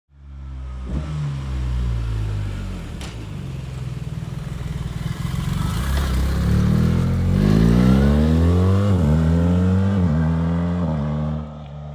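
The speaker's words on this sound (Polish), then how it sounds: "w każdym tunelu jest podniesiony dźwięk tego silnika" A motorcycle engine rises to a loud, booming roar inside a tunnel, revving up and down in repeated swells with strong echoing reverberation.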